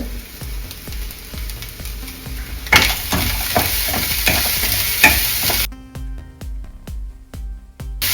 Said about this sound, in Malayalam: പഞ്ചസാര ഏലക്ക കാഷ്യൂ ഒക്കെ ചേർത്ത് നന്നായിട്ടൊന്ന് ഇളക്കി മിക്സ് ചെയ്യുമ്പോഴേക്കും നമ്മൾ ഫില്ലിങ് റെഡിയായി